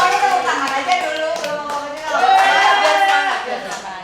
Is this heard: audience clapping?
yes